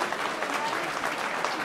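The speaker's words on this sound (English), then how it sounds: "A round of applause for everybody." Crowd applause at a Golden Gloves boxing event in Pittsburgh, a steady wash of clapping from a large indoor audience that holds at one level throughout the short stretch.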